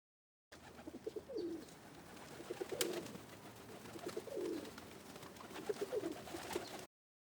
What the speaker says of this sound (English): This is a pigeon.